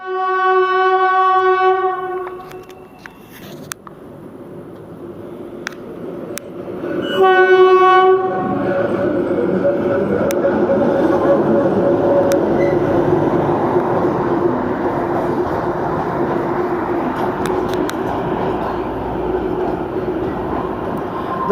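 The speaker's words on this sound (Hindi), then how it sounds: "दोस्तों ये वो ट्रेन है जो रोज़ शाम को 6:30 बजे निकलती है और चंडीगढ़ पहुंचती है 11:30 बजे" A passenger train near Shimla, headed for Chandigarh, sounds its horn in long close blasts, then rumbles loudly past with a steady clatter of wheels and wagons, and a further short horn blast comes partway through.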